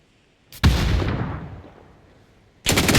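Gunfire striking the player in a video game: a sudden loud crack that rings out and decays over about two seconds, followed by a second sharp burst at the end, with no talking.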